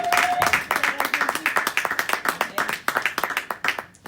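Church congregation clapping at a worship service, a dense, continuous round of many hands applauding together, fairly loud and steady throughout with some voices mixed in.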